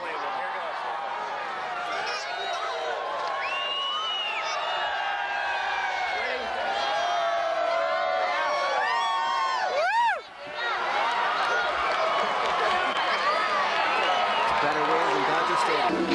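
Excited crowd at a baseball game in a stadium, a steady roar of many voices with cheers and whoops throughout, briefly dipping near the middle before surging back, with nearby chatter mixed in.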